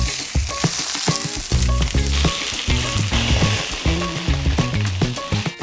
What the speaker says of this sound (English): We're gonna add our leek